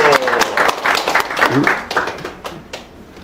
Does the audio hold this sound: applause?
yes